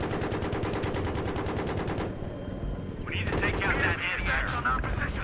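Rapid automatic gunfire in the video game Battlefield 3 rattles in a fast, loud, even stream for about two seconds, breaks off, then resumes amid a rising whine while someone talks.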